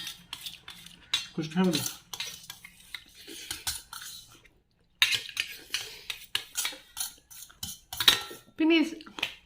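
A metal spoon clinks and scrapes against a bowl while it cuts up Maggi noodles during an eating challenge, in irregular close bursts with a brief silent gap, and people talk over it.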